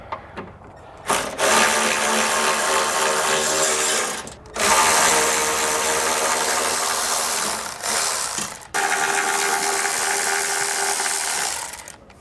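Power tool whirring in long bursts as bumper bolts are removed from a 2021 Toyota C-HR during a trailer hitch install, loud and close with short pauses between runs.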